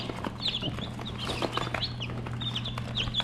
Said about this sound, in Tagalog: cute ng mga sisiw natin